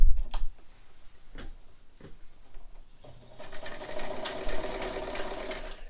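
A Kenmore 158.1752 sewing machine starts after a few clicks and knocks, then runs steadily, stitching fabric with a fast mechanical whir and rattle, close and moderately loud.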